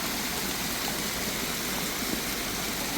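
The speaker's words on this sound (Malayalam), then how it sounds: "ചെറിയൊരു വെള്ളച്ചാട്ടം." A small roadside waterfall in Munnar makes a dense, steady rushing roar of falling water, loud and unbroken throughout, with no voices.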